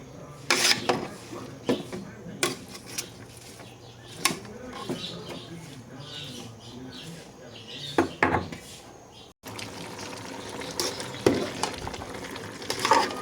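Pinakbet vegetables cook in a pan with soft, steady sizzling, punctuated by repeated sharp clacks of a utensil stirring and scraping against the pan, heard close up.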